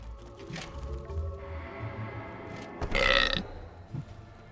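The Hellhole in the video game Dungeons 3 lets out a loud, gurgling burp after swallowing a live hero, a brief belch rising over low ambient game music and rumble.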